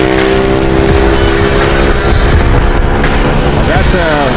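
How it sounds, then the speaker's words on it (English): A car with a loud exhaust revs on a street in Cagayan de Oro, Mindanao, Philippines, its engine roar loud and continuous for several seconds, rising in pitch near the end. "That's a serious thing, you know, this loud exhaust."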